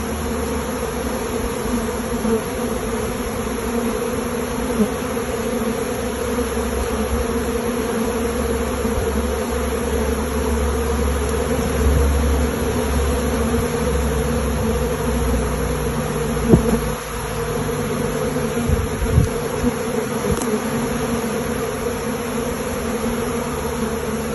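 Honey bees swarm around an open hive on a beginner's bee farm, a dense, continuous buzzing drone close by, with louder individual bees zipping past now and then.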